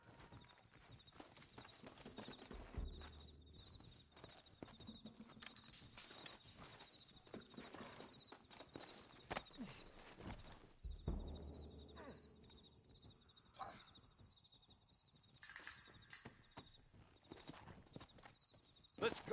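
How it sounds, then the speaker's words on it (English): Several horses clip-clopping in the Red Dead Redemption video game, steady hoofbeats at moderate distance amid game ambience and scattered clatter, with no talk over them. "Looks like Carlos left us some horses."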